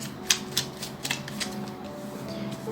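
Tarot cards being shuffled and drawn for a reading, a few soft crisp card snaps and flicks up close over a low steady room hum, with no talking.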